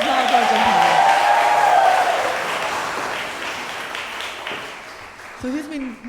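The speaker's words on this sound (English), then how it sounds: "then please big applause for Ajahn Thai." Audience at a closing ceremony applauding in a broad, steady wash that slowly fades, with voices talking over it and a voice rising again at the end.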